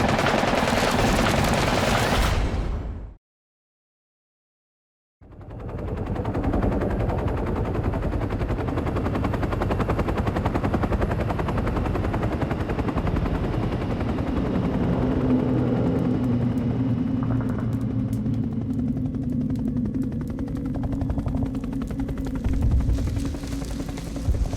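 Vietnam War combat audio: loud bursts of machine-gun fire and gunshots over a steady rumble of military helicopters, broken by a few seconds of total silence, then a dense, continuous din.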